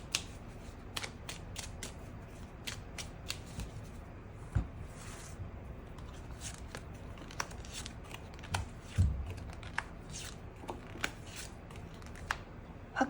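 Tarot cards being shuffled and drawn close up, heard as quiet, irregular flicks and riffling snaps spread across a low room hush, with a few louder card slaps and no voices.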